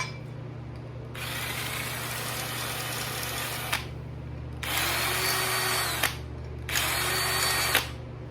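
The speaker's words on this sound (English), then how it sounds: "I'm just going to put it in the drill." A power drill whirs in three sustained bursts while working aluminum, separated by brief pauses, steady and close with a constant motor hum beneath.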